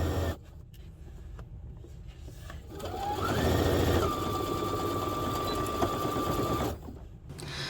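A sewing machine back-stitches through the fabric of a soft padded figure skate guard, a steady close-up whirring run that speeds up in the middle and then stops.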